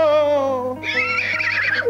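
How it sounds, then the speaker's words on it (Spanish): A horse whinnies loudly and close, a long high neigh that shifts into a rough, shaking tail, alone over a faint low hum. "El relincho, el caballo ese."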